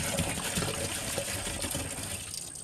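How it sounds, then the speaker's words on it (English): Liquid glyphosate herbicide from a 64-ounce jug poured into an empty sprayer tank, a continuous close trickling, gurgling stream with small splashes and no talking. "Time to put the glyphosate in."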